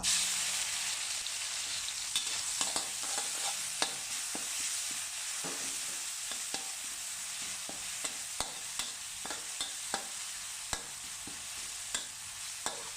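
Chilli and garlic stir-fry in about three spoons of oil, giving a continuous quiet hiss of frying with light, irregular scraping taps of a utensil against the pan throughout.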